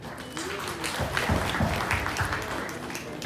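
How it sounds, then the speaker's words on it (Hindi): A crowd at an awards event in Hyderabad applauds steadily, a dense wash of clapping that keeps going throughout, with a voice faintly heard under it. "तो इवेंट है आपका, तो पहली तालियां आपके लिए"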